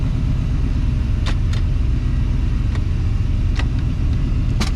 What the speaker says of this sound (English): So I use this little guy to pull that forward to start the truck.